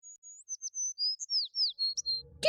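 Series of short, high bird chirps and tweets, one after another, close and clear, with a brief rustle at the end.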